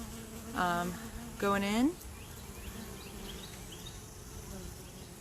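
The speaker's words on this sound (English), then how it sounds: "so here's a bee with some pollen in it, on it," Honey bees hum faintly and continuously at the hive, a low steady buzz beneath two short spoken words near the start.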